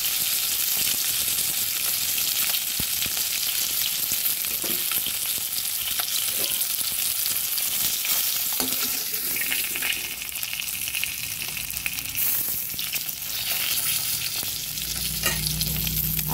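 Katla fish frying in hot oil, a dense continuous sizzle and crackle close up with a few utensil taps and scrapes, no talking.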